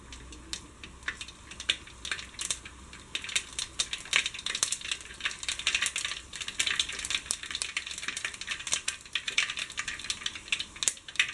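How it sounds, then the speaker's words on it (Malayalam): Mustard seeds crackle and pop in hot oil for a horse gram stir-fry, a dense, steady run of sharp sizzling snaps close by with no talk. "കടുക് പൊട്ടി വന്നിട്ടുണ്ട്."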